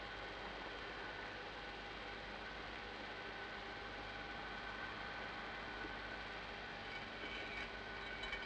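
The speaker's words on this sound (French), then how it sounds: "c'est un wagon. C'est un wagon qu'on remise." Railway wagon being shunted in a 1938 film, heard as a steady, dense rumble and rolling roar that holds at an even level throughout, with no voices.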